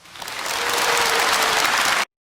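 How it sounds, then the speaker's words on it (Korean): Welcoming applause at a kindergarten worship service: dense clapping swells up over the first half second, holds loud and steady, then cuts off abruptly after about two seconds. "우리 모두 환영의 박수 쳐줄까요?"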